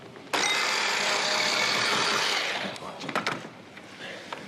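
A kitchen blender whirs loudly and steadily for about two seconds, blending shallots, thyme and egg yolk for a cheese soufflé, then cuts off, leaving clatter and faint voices.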